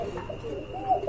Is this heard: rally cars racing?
no